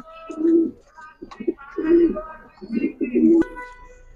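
A pair of high-flyer pigeons coos close by in three rounded, repeated phrases with brief gaps between them, with faint background voices and rustling around them.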